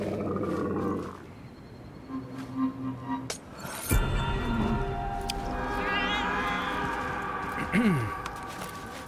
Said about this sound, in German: Ich streichle einfach mal die Katze.